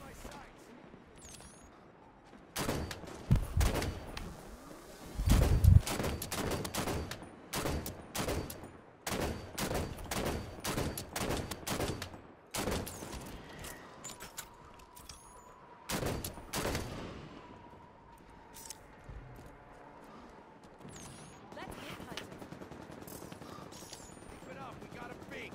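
Scattershot fire from a Knight enemy in Halo 5's legendary campaign, with rapid bursts of loud, crackling shots clustered in volleys, interspersed with other weapon fire and explosions, while a player talks intermittently.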